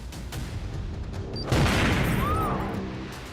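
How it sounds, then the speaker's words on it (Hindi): A sudden heavy tractor explosion bursts in partway through, followed by a loud, sustained rumbling roar that slowly fades. "ट्रैक्टर में ब्लास्ट"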